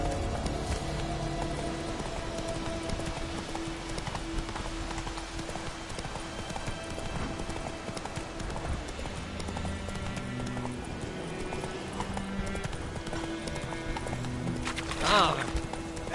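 Horse hoofbeats clip-clop steadily at a gallop in The Witcher 3, with a brief whinny near the end, set against a continuous game music bed and ambience.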